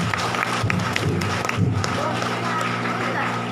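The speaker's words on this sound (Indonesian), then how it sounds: "Tepuk tangan Bapak Ibu." An audience at a parents' and teachers' gathering at an Islamic boarding school claps in a dense burst of applause, with crowd noise and voices underneath throughout.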